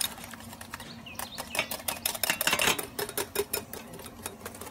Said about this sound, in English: You want to hit it with the whisk because you need to get air in it and it'll fluff up.